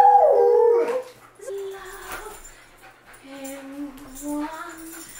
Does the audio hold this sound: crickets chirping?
no